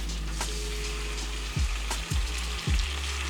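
Trout fries in melted butter in a pan with a quiet, even sizzle, broken by a few soft low thumps near the end.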